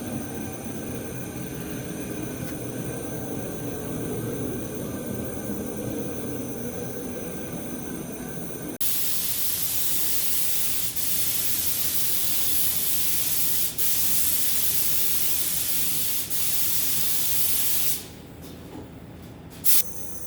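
A spray gun lays down tri-coat base coat paint in a steady, close hiss that runs unbroken for long stretches and stops near the end, with no talking.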